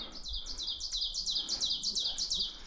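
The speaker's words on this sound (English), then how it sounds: "That's the oven bird" An ovenbird sings a rapid series of repeated bright, rising two-part notes, about a dozen in a row, steady in rhythm and moderately distant, in a Nova Scotia forest.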